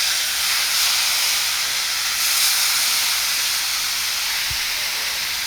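Boiled milk poured into hot rava (semolina) for a sweet evening snack, giving a loud, continuous steamy hiss and sizzle that holds steady throughout, with a soft low thump near the end.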